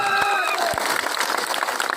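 Audience applause at a political party rally in Aurangabad, a steady dense clatter of clapping filling the whole stretch, with a few brief whistles and a voice near the start.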